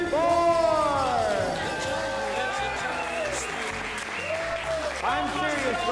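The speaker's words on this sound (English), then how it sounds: "Do not stop clapping" Restaurant audience at a Woodside First Friday music night clapping steadily, with someone talking loudly over the applause and crowd murmur throughout.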